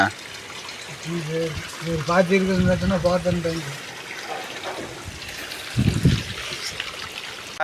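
Irrigation water flows into a farm field with a steady trickling, pouring rush, while someone talks nearby over much of it.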